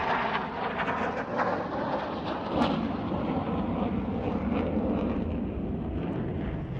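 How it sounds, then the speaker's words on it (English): Jet aircraft powered by a Volvo Flygmotor RM8A turbofan with afterburner, a broad, steady roar that holds at a constant level throughout, with no talk over it. "the engine, the Volvo Flygmotor RM8A turbofan with a Volvo designed afterburner"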